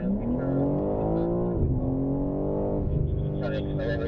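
A BMW M3 accelerating out of a corner on a racetrack, heard from inside as a steady, loud engine drone that rises in pitch, dips briefly, then climbs again.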